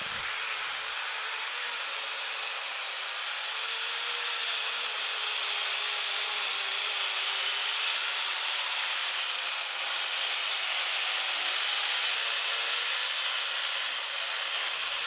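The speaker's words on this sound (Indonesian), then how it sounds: "kita coba untuk memotong kayu karet lagi yang agak besar ya teman-teman" A battery-powered brushless chainsaw, the Bull BL510, cutting a rubber wood log about 25 cm across, giving a steady, loud, high whining buzz that runs unbroken for the whole stretch with no talking.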